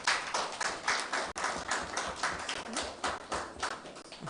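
A room at a press conference held by CCM and PAM leaders claps in a steady, moderately close round of applause, with sharp overlapping hand claps throughout.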